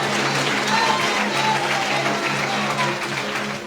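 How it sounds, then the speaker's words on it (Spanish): Loud, steady applause from a church congregation during an evangelical service, a dense wash of clapping that holds for several seconds without a break. "Fuertes aplausos"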